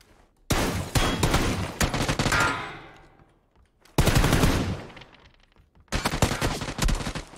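Automatic gunfire in the video game PUBG aimed at a player's vehicle tires, three loud rapid bursts, each fading out before a sudden restart, close and with no talk.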